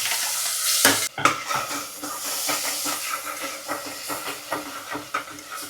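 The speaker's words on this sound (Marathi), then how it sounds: "तेल गरम झाल्यावरती जिरा ऍड केलेला आहे, हिंग थोडासा आणि बघा त्यानंतर टोमॅटो आणि मिरचीची पेस्ट बनवली" Cumin, a little asafoetida and a tomato and chili paste fry in hot oil, a steady close sizzle and hiss with stirring scrapes and a few sharp clanks against the pan.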